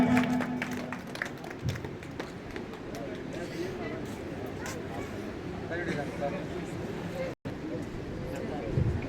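An audience applauds to welcome a guest at a ceremony honouring athletes with speeches and gifts. Dense, steady clapping runs throughout, with a brief drop-out near the end and some background voices.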